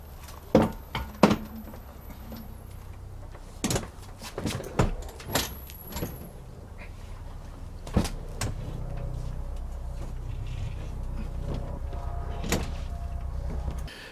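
A folded Engwe Engine Pro 48V electric bike being heaved into the back of a small hatchback: a series of sharp knocks, clunks and metallic bumps, irregular and close, then a steady low hum underneath.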